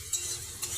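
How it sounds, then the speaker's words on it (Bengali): Garlic, salt, chilli powder, fenugreek and nigella seeds fry in oil in a wok for jujube pickle, a soft steady sizzle with two brief bright scrapes of stirring. "এখন এগুলো ভাজি করছি।"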